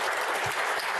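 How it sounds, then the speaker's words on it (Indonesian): An audience claps in dense, continuous applause throughout the brief moment, full and close with no voices standing out. "Tak lupa tepuk tangan sekali lagi untuk keluarga besar Kejaksaan Agung."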